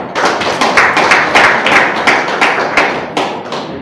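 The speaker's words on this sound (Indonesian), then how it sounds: "Tepuk tangan semuanya." An audience at an inauguration ceremony claps in a loud, close burst of rhythmic, fairly synchronized hand claps.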